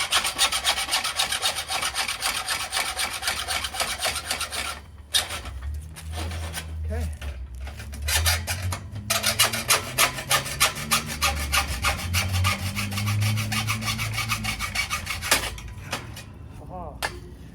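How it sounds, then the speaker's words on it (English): Old hacksaw cutting wood for a ground-level deck, rapid rhythmic rasping strokes that pause briefly midway and then resume steadily, with someone talking over the sawing. "Can't find my other sawzall, but I got this old hacksaw."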